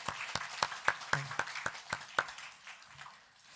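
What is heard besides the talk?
congregation applauding in church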